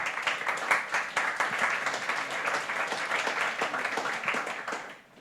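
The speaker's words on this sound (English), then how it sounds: "One more round of applause" A conference audience claps for a speaker in a dense, even burst of applause that keeps up steadily and then tapers off at the close.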